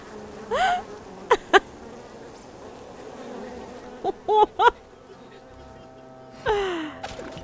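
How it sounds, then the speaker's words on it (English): Bees buzz in the video game Evil Genius 2, heard as several short rising and falling buzzy tones that come in scattered bursts over a low game background, with faint sigh-like vocal sounds in between. "Come and see the bees."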